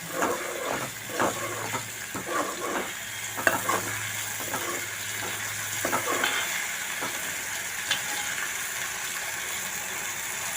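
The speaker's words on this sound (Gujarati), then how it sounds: "તેને ધીમા ગેસ ઉપર આપણે વઘારને તળવા દઈશું." Garlic chutney tempering fries in oil over low gas, a soft continuous sizzle with occasional spoon stirs and light clinks, close and steady without talking.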